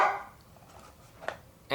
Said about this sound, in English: And the dog wants to go outside.